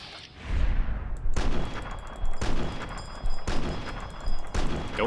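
A .308 rifle fires repeatedly in Fallout: New Vegas: four loud, sharp shots come roughly a second apart, each ringing out with a booming echoing tail, close and dominant with no talk.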